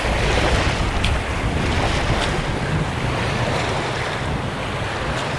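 Strong wind and lapping waves on the shore of Crummock Water in the Lake District, a steady, loud rush with heavy wind buffeting close to the microphone and no voices.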